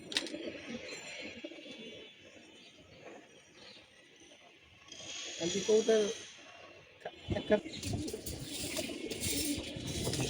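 Pigeons in a cage cooing in soft, low repeated calls, with people talking nearby and some handling and rustling noise.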